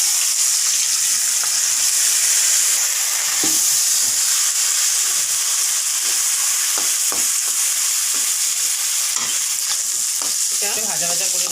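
Rice sizzles as it is stirred and fried in ghee and oil with green chillies, a loud continuous frying hiss broken by scraping stirs.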